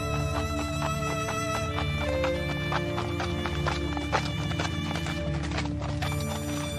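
Steady clip-clop of a horse's hooves as a prince rides off in a Hindi cartoon story, heard alone against a busy musical backdrop, with a neigh rising near the middle.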